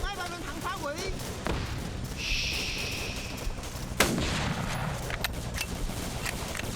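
Bolt-action rifle fire in a Vietnam-era shooter game, a few sharp cracks among distant battle gunfire and booms, with a person talking over the continuous combat din.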